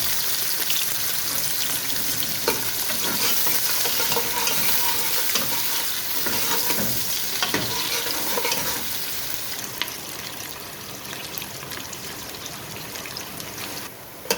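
Chopped onions sizzling in hot ghee in a pan, a dense continuous crackle and hiss, close and steady, with occasional stirring scrapes.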